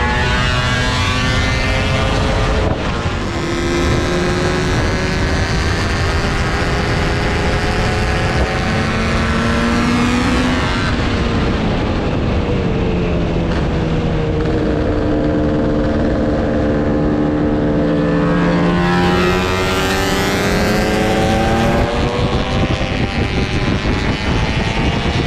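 A Yamaha RD400 Daytona motorcycle, a two-stroke, screams loudly past several times, its engine note rising and falling through gear changes as it revs hard and pulls away, with no talking.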